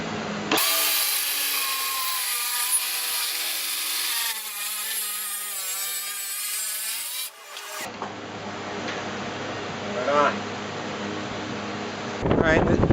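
A thin-kerf power saw blade cuts through extremely hard wood guided along a fence, a loud, sustained whining rip that shifts pitch as it bears into the tough stock, followed by quieter tool noise and handling.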